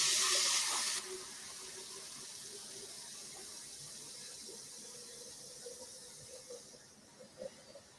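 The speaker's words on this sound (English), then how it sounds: "Sound of the water filling up" Water runs from a kitchen sink tap into a pot, a steady hiss and rush that starts loud and harsh, then settles into a softer continuous flow with faint clinks toward the end.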